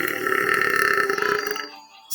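A single loud, long belch, deep and sustained for over a second before trailing off into quiet.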